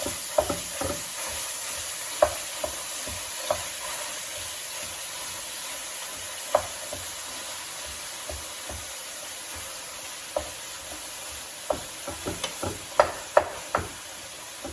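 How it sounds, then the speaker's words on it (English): Ground meat for chilli fries in a little oil while a utensil breaks it up, giving a continuous close sizzle punctuated by irregular sharp taps and scrapes against the pan, with no talking. "So now you want to put the meat in and just break up the meat."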